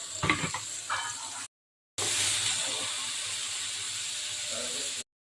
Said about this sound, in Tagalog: Init yung kawali, kaya nilagay ko na kaagad yung garlic at saka yung onion.